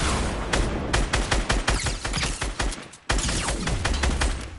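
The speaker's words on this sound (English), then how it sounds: "they're shooting at us" Dense gunfire in the Fortnite video game: rapid overlapping shots and bursts crackle close and loud for several seconds, with a brief gap before the barrage resumes.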